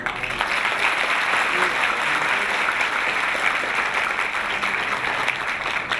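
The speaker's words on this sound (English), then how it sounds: "please give our special guest for today a big round of applause" An audience at a peace gathering applauds special guests, a steady, dense wash of clapping holding at an even loudness from start to finish, with a faint murmur of voices beneath.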